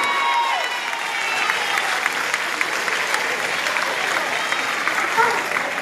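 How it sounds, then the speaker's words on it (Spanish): A crowd at a campaign rally closing event in Villa de Álvarez applauds loudly and evenly, with a few scattered cheers rising out of the dense clapping for several seconds. "Por favor, fuerte el aplauso que se escuche."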